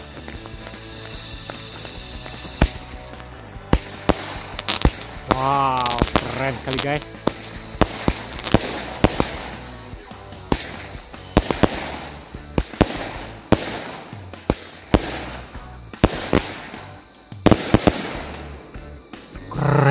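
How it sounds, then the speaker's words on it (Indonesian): A 16-shot Batman firework cake of firecrackers bursts in a rapid series of loud, sharp cracks and pops over about twenty seconds, with a person speaking excitedly between and over the blasts. "Mercon cake Batman, kita lihat hasilnya sudah berhasil menyala teman-teman."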